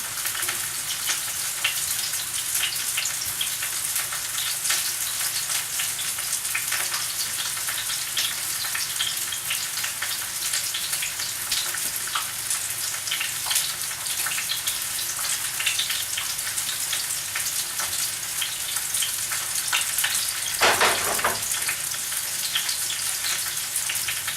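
Crispy wontons frying in oil as they brown, with a continuous hiss and sizzle that holds steady throughout and briefly swells near the end.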